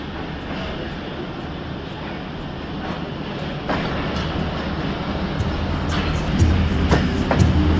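Khyber Mail passenger train running toward Peshawar, a steady broadband rumble with rising noise and a few sharp clanks near the end, no talk.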